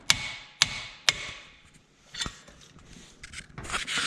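Sharp metallic hammer strikes on a screwdriver, three quick blows then scattered taps and scraping, as a stuck nut is knocked loose on a stub truck.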